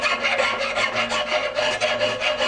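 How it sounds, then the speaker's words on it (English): A metal file rasps silver brazing flux off a joint on a steel bicycle frame, a steady gritty scraping with repeated back-and-forth strokes, close and continuous. "the flux is pretty much just breaking off of here as I'm filing"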